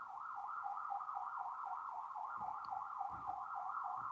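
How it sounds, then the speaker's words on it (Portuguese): An ambulance siren outside a home window wails continuously in a steady rising-and-falling cycle, heard through the glass at moderate volume with faint low rumbling beneath. "a ambulância está atrapalhando a aula ou só eu que estou escutando ela muito alto?"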